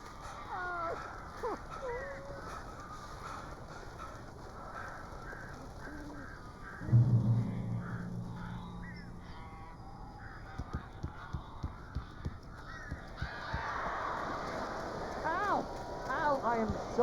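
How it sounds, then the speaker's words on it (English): Crows caw in Alan Wake Remastered, a scatter of harsh calls and flapping amid eerie ambience, with a cluster of louder caws midway and voices speaking over parts of it. "These birds are weird."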